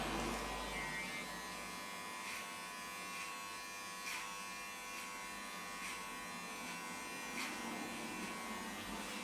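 Electric hair clippers with a guard run steadily while trimming a beard, tapering the sides; a continuous close buzz with faint periodic strokes as the clippers pass through the hair, no talking.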